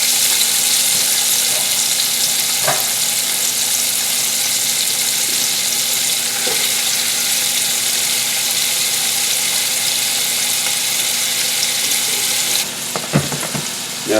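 Two large onions sizzle loudly and steadily in a hot pot roast pan, a continuous crackling hiss with occasional clinks of a utensil stirring near the end.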